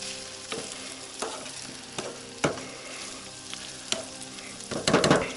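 Meat frying in a pan on a stove inside an ice-fishing tent, with a steady sizzle punctuated by sharp clicks and scraping stirs, building to a louder crackling burst near the end.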